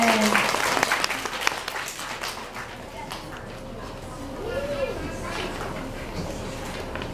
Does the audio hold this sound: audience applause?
yes